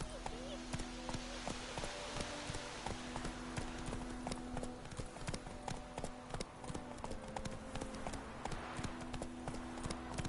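Roach the horse trots along in Witcher 3, hooves clip-clopping in a steady, quick rhythm over constant game music, with a voice talking over it.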